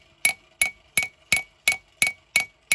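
Bevels of a backwoods knife hammered down on the anvil during forging: eight crisp, bright, ringing strikes at an even pace, close and loud with no talking.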